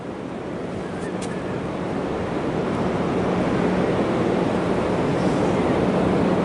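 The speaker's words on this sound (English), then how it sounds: "the ocean's in the background" Ocean surf at Coos Bay rolls in as a broad, continuous wash from the background, mixed with wind buffeting the microphone and growing a little louder over time.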